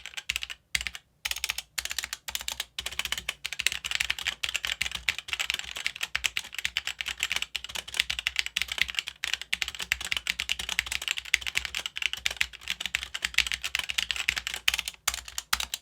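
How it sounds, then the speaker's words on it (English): Steady, fast typing on a HyperX Alloy Origins tenkeyless mechanical keyboard with linear switches, a dense run of smooth, snappy keystrokes heard up close and alone, with brief pauses near the start. "Now listen to these linear switches."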